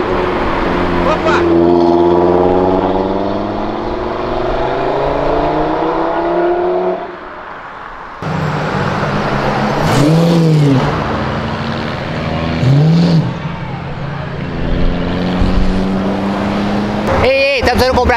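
A gold Lamborghini accelerates along a city avenue, its engine droning and climbing through gears, with a few sharp revving sweeps and passing traffic, while people talk over the sound.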